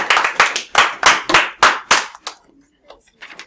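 A classroom of students claps in a quick run of about eight loud, sharp, evenly spaced claps, then trails off into a few scattered softer claps and quiet noise.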